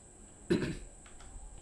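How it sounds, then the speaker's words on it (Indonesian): A single short, muffled cough or throat clear, close by, followed by quiet room noise. "Sorry gua agak batuk."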